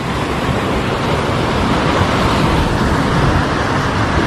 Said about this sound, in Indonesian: Kondisi ombaknya lagi tinggi ini ya